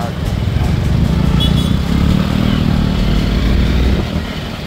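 A motorcycle engine hums steadily up close while riding in Kathmandu, with a constant drone and rushing wind throughout.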